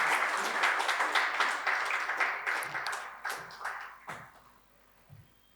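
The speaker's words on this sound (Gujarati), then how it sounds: "આપણે તાળીઓથી આ ક્ષણોને શાશ્વત બનાવીએ" A seated audience at a lecture event claps steadily, then the applause thins out and fades into scattered claps and room quiet.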